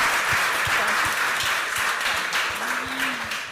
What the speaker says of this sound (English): You can, ruhig applaudieren.